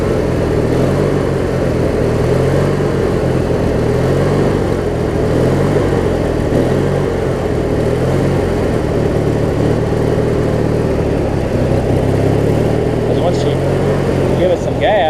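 MTD LT1442 riding mower engine, needing a starter solenoid and stator wire replacement, running loud and close after a restart with a steady chugging, slightly uneven drone that holds throughout, while a person talks over it.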